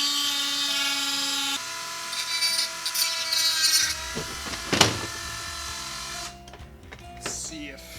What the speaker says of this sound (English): luckily for me, I've got a Dremel.